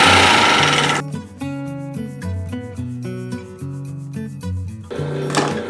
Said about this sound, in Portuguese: vou começar a passar no overlock, fechando os ombros, a parte de cima aqui dos ombros